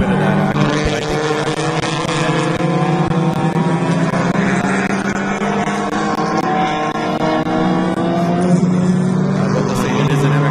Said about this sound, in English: it is an MX-5 running that 4-liter or 4-cylinder engine coming up against the Hyundai Genesises, which have the V6